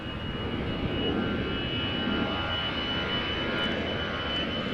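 A jet airliner departs Amsterdam Schiphol Airport as Shamrock Flight 841 bound for Cork, its engines a steady, loud, unbroken roar that fills the whole stretch.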